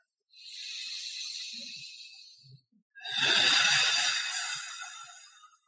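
Two long, deep breaths during breathwork, each a drawn-out airy rush, the second louder and fuller, separated by a brief pause and heard close.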